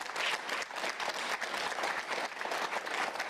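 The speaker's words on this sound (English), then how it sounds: "That's nothing to clap over." Sustained applause from an audience at a political speech, dense and steady clapping throughout with slight swells, fairly distant in a large hall.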